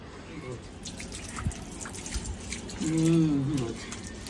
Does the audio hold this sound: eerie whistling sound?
no